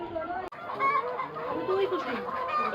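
Chickens on a broiler and layer poultry farm cluck and call continuously, several birds overlapping at close range, with a brief sharp knock near the start and no clear talk.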